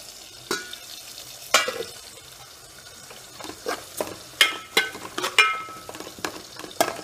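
Upma fries on a stove while a spoon stirs it, sharp scraping clatters against the pan coming in uneven bursts over a low steady sizzle, close and clear without speech.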